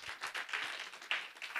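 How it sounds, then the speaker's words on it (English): Applause at a university memorandum of understanding renewal ceremony, a brief burst of clapping from a modest audience, fairly faint and slightly uneven. "Another big round of applause for Remong Akhotla."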